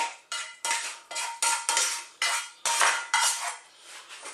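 Metal utensil scraping and clinking against a dish as tomato sauce goes onto pasta in a home kitchen, a quick series of close, bright, scratchy strokes with no talking.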